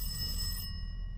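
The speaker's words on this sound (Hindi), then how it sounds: "फोन की घंटी बज रही है कहाँ पे यार?" Telephone ringing inside the video game Welcome to Kowloon, a bright electronic bell trill repeating rapidly over a low background hum, cutting off abruptly partway through.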